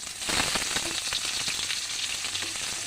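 Onions hit hot oil already tempered with five-spice, dried red chillies and bay leaves, sizzling loudly and continuously up close, with faint stirring scrapes and no voices.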